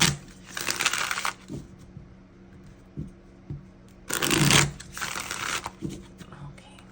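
Tarot cards are shuffled in bursts, crisp riffling flutters close by, two main runs separated by quieter taps and card handling, with no talking.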